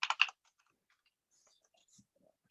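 A computer keyboard is typed on in a quick burst of a few close keystrokes right at the start, followed by near silence with faint stray clicks.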